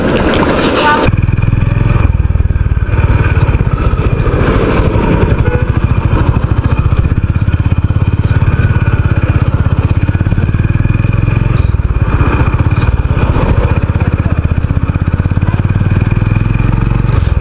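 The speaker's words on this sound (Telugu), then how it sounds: "ఈరోజు నా హోండా హైనస్ మీద బీచ్ రోడ్లో రైడింగ్ చేద్దాం." A Honda Hness motorcycle ridden along a beach road in Vizag, its engine a steady loud low drone with wind rush throughout, close to the rider, while someone talks over it.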